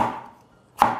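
A knife slices tomatoes on a board: two sharp, close chops about a second apart, each with a brief ringing decay, with no talking.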